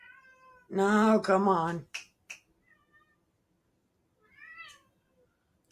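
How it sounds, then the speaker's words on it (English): A cat lets out a loud, drawn-out meow close by, followed by a couple of short clicks and later a fainter, shorter meow, with a person speaking briefly at the start. "You do hear that cat"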